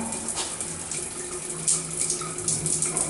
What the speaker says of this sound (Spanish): Ducha funcionando correctamente, en muy buen estado.